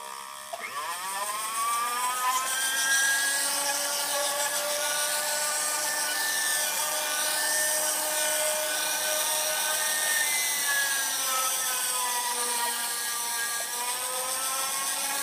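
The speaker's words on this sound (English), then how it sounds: "Drilling through a cast cross, starting at an angle." A drill bores at an angle through a cast glass cross, giving a steady, loud, continuous whine with a shifting pitch. It runs unbroken for the whole stretch with no voices.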